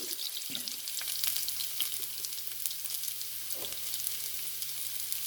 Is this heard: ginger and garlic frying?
yes